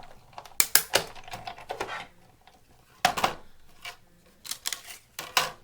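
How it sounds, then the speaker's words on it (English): A hand-cranked die cutting machine rolls a stack of standard cutting pads, a framelit die and cardstock through its rollers, making a series of close, sharp clicks and clunks in uneven bursts with quiet gaps between. "I have my framelit, top standard cutting pad, and just roll it on through"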